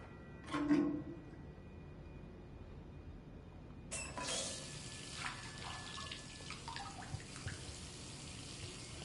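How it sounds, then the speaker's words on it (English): Tap water runs into a bath in Detroit: Become Human, starting abruptly as a steady splashing stream, moderately close, with a few brief knocks and drips beside it. "Or am I to run some water for her?"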